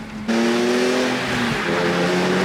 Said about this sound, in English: Pretty responsive shifts.